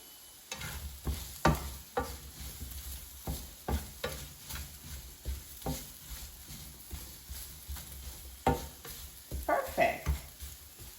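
Seasoned radishes sautéing in a frying pan, stirred with a utensil, making a rhythmic series of scraping, clattering strokes over a low sizzle, close and moderately loud, with no talking.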